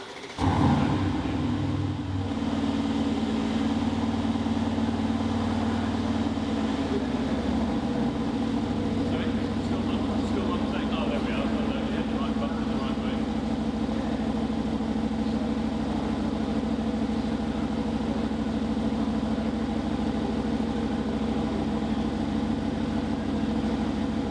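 A 2018 Aston Martin DB11 Volante engine starting and running, a brief startup burst followed by a deep, steady idle rumble close by, holding evenly throughout.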